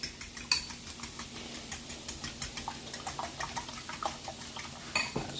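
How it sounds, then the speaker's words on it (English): A fork stirs chorizo breakfast burrito filling in a dish, making quick, rhythmic metal-on-dish clinks and scrapes at close range, with no voices. "Let's go ahead and give this a mix."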